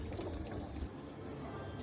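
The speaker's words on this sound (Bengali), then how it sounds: "অনেক পায়রা আপনাদের জন্য নিয়ে এসেছি বন্ধুরা।" Pigeons cooing at a pigeon sale, a soft continuous murmur of many birds close by over a low background rumble.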